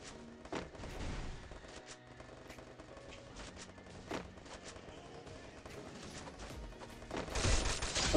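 Faint, busy exchange of gunfire in the mobile shooter Free Fire, scattered shots and bursts with a louder flurry near the end, sitting low in the mix under game music.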